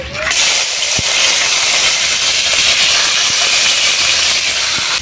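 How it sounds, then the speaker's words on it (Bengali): Tel potka, a fish, fries in hot mustard oil in a kadai, giving a loud, continuous hiss and sizzle with a few faint clicks and no talking. "তেল গরম হয়ে গেছে, এবার তেল পটকাগুলো দিয়ে দিচ্ছি।"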